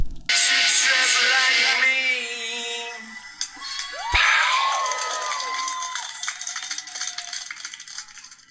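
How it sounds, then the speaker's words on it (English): Crowd cheering and whooping at a fire poi performance, loud and sustained from the start, with scattered shouts and whistles rising over the roar and thinning slightly toward the end. "And the crowd goes wild."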